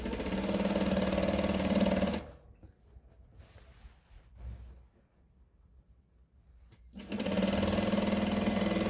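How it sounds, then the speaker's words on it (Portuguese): A sewing machine stitches a pinned circular seam, running loud and steady for about two seconds, falling silent apart from faint handling noises, then starting again at the same speed near the end. "Eu vou tirar os alfinetes e vou costurar."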